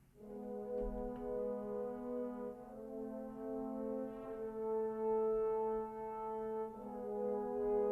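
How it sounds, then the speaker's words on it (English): A sustained orchestral ending with strings and a six-horn brass patch from Cinebrass Core played with poly legato, stacked harmonic chords swelling and shifting slowly over a low rumble, steady and full throughout with no talking. "this 6 horns patch from Cinebrass Core, and I basically used the poly legato for the ending"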